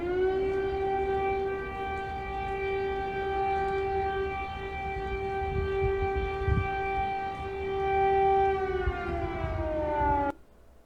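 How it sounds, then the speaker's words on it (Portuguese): A civil defense air raid siren wails steadily across Kyiv, its layered tones holding a long sustained pitch before winding down near the end, loud and alone with no voices. "justamente a sirene soando diante do perigo do ataque aéreo em Kiev"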